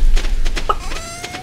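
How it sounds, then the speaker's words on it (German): Chickens in the Stardew Valley farming game give a few short clucks over a steady low background hum, with a brief tonal call near the end; no talking. "hab ich jetzt mal die Hühner gestreichelt"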